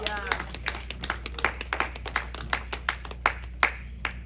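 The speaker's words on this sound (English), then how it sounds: "Clap for Jesus here." Church congregation clapping for Jesus during a service, a steady run of sharp, close handclaps with a low hum underneath and a brief voice at the start.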